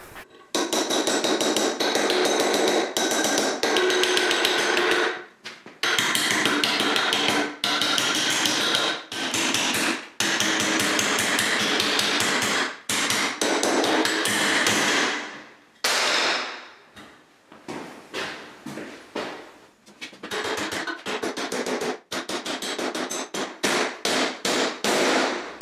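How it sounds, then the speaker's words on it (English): A heavy two-pound hammer pounds an aluminium weld clamped in a vise, delivering a long run of loud, rapid metallic blows in bursts, with brief pauses and quicker clustered strikes toward the end. "So let's see how strong that is in the vise with the hitting stick."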